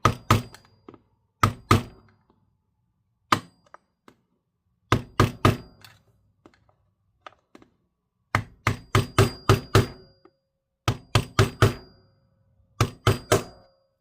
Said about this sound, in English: Let's see if we can hammer it down a tiny bit here.